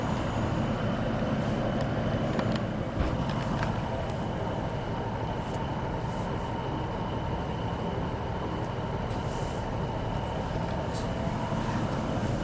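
Steady rumbling drone of an ex-East Midlands/Central Trains Class 156 diesel unit running as a Northern service toward Liverpool Lime Street, heard from on board, continuous and fairly loud, with no clear voices.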